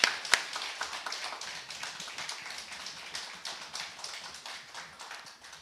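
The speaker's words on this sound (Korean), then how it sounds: "우리 박수 한번 크게 쳐주시기 바랍니다." A church congregation claps for newly appointed church workers during a worship service, a steady, fairly soft patter of many hands with a sharper clap at the start, heard from a distance without speech.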